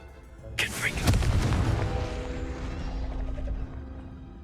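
A Confringo blasting spell bursts in the video game Hogwarts Legacy: a sharp crack, then a loud, booming explosion with a long, rumbling tail that holds a few seconds before dying away.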